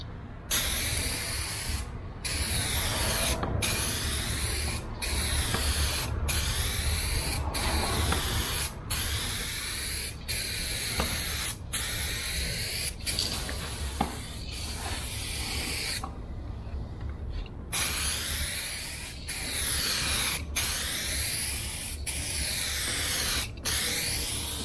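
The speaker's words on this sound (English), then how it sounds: "I'm probably going to do a section at a time and then move until the quarter panel is completely sprayed and covered." Aerosol spray can hissing steadily as paint goes onto a car quarter panel, long continuous bursts separated by brief pauses, close and loud with no talking.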